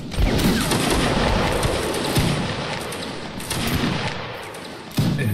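Massed musket volleys rattle out continuously across a Napoleonic Wars line battle game, a loud sustained din of overlapping shots with a fresh burst near the end.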